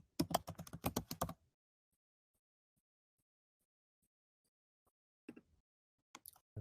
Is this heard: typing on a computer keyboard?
yes